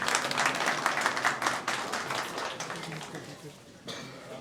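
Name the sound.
loud applause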